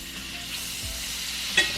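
Butter sizzles in a seasoned cast iron skillet, a steady close hiss of frying with a brief clink of a utensil near the end and no talk.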